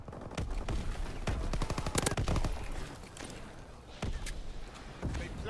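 Rapid-fire BAR gunfire in a video game, repeated loud bursts of quick automatic shots with short gaps between them, close and punchy.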